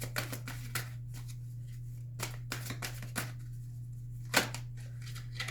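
Playing cards shuffled and laid down during a tarot-style reading, with repeated crisp riffling bursts and soft slaps close by, set over a steady low electrical hum with no talk.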